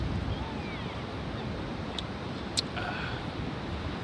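Ocean surf breaks and washes continuously on a sandy beach where surfers are out, a steady, fairly loud roar mixed with wind rumble and a couple of brief sharp clicks, with no voices over it.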